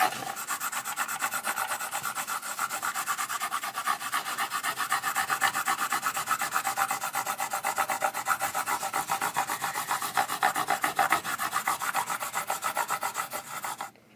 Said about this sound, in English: We'll just polish these frets up real quick.